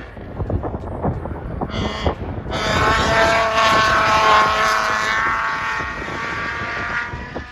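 A Mitsubishi EVO race car laps a track, its engine rising from a distant rumble into a loud, sustained roar as it passes close by, with buffeting wind noise on the microphone.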